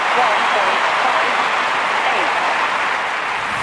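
Steady crowd applause and cheering from a London 2012 Olympics video game, filling the whole stretch at an even, loud level with a faint commentator voice underneath.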